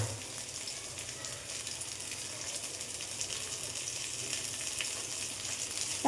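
Brinjal frying with spices in a pan, a continuous close sizzle with soft stirring scrapes running steadily throughout, no voices.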